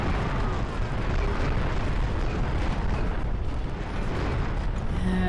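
Self-propelled artillery firing in the video game Empire Earth II: a steady, loud barrage of rumbling blasts merging into a dense roar that runs the whole way through, with no speech.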